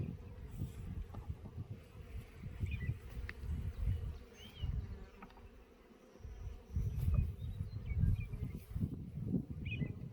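Honey bees hum and drone steadily around an open hive during queen-cell work, a dense low buzz that swells and dips close by, with breezy wind rumble mixed in and no talking.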